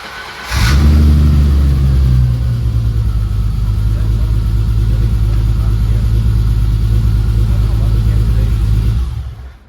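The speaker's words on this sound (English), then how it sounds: "That's how it starts up." A BMW E30 325i with a stroker engine cranks and fires up, then settles into a loud, steady, rumbling idle with light revving that runs nearly the whole time before cutting off at the end.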